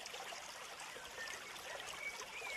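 A river's water flows steadily past a village, a soft, even rushing and trickling that stays faint and unbroken with no voices present.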